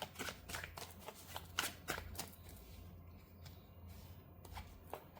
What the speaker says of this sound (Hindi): आप लोगों के सामने ही कार्ड्स निकालती हूँ मैं